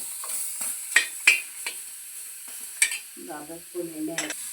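Tomato gravy being stirred and fried in a pan for a North Karnataka chicken curry, with soft sizzling and several sharp utensil scrapes and clinks against the pan, fairly close, with no talking.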